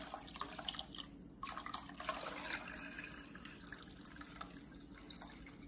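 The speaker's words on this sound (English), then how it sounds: "So we're going to add some more water to the beans." Water pours from a tap into a pot of beans, a soft splashing and trickling with scattered drips, faint and steady throughout.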